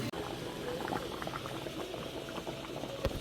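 Food boils and steams in a pot during home cooking for Onam, with a steady close bubbling and hiss and an occasional small clink.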